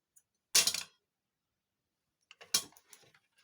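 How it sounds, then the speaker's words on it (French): Craft paper being cut: two short, crisp snips about two seconds apart, close and clear against silence, each followed by a few faint crackles. "ce que je vais faire, je vais couper."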